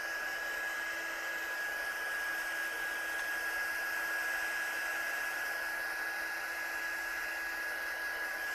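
A heat tool blows steadily over a handmade watercolour card, a constant whirring hiss with a thin steady whine, close and unbroken throughout, no talking.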